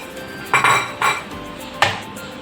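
A metal spoon clinks sharply against a steel pot three times while melted jaggery is stirred into mango pulp for aamras, each clatter close and bright, separated by quiet gaps.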